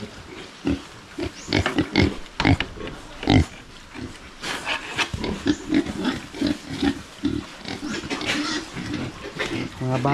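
Pigs on a small farm grunt and snort close by in uneven bursts, with a human voice talking intermittently among them.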